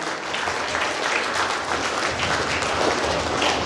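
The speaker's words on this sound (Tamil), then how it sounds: "மாதவி ஜெயபிரகாஷ் அவருக்கு நல்ல ஒரு கைத்தட்டல கொடுங்க" An audience applauds dancer Madhavi Jayaprakash at a Salangai Pooja dance event in Puducherry, a dense, steady wash of many hands clapping throughout.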